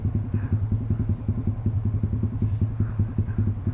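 A low, chugging video-game speedboat engine runs steadily with a rapid pulsing rhythm in rough waves, close and loud, with faint water splashes in the background.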